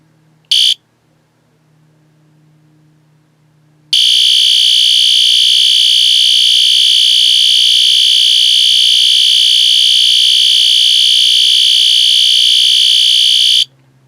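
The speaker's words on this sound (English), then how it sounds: "the discontinued system sensor spectralert advanced remote horn" A System Sensor SpectrAlert Advanced fire alarm horn blares continuously for about ten seconds, a loud, harsh buzzing electronic tone, preceded by a brief short blast and quiet room noise.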